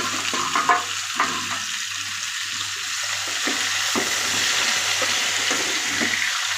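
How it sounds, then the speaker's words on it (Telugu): Raw banana pieces fry with onions in a pan, a steady sizzle with occasional stirring clatter and scrapes close by, alongside a low constant hum. "వాటర్లో నుంచి తీసి ఇలా పక్కన పెట్టుకొని వేసి ఫ్రై చేసేయటమే"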